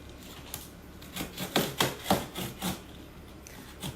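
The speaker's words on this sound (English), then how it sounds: "if you cut down the sides of the box" Cardboard box of a recteq RT-340 pellet grill being cut down its sides, a run of rough scraping, ripping strokes close by, several bursts in quick succession before fading to quiet.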